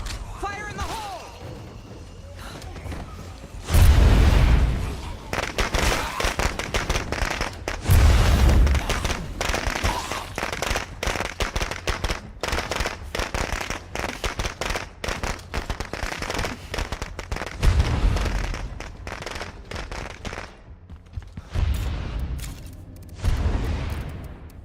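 Firecracker packs popping in the State of Decay 2 video game, rapid rattling bursts of bangs and crackles repeating over about twenty-five seconds, loud and close with several heavier booms, and a voice talking intermittently.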